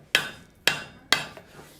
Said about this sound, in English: I'll hammer this thing right around our horn.